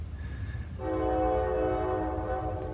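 A deep train horn sounds in a sustained blast over a low rumbling background, fairly close and steady.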